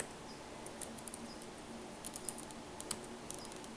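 Computer keyboard keys are typed in a terminal: light, quick clicks come in short irregular bursts with brief pauses, close and faint over a low steady hum, with no talking.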